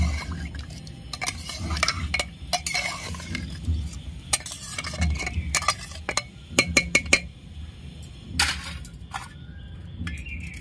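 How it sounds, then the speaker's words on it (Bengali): A pressure cooker holding mutton gets its lid fitted and locked, with a series of sharp metallic clinks and scrapes against a low background rumble, the clicks clustered in quick bursts. "প্রেসার কুকারের ঢাকনাটা আটকে দিচ্ছি।"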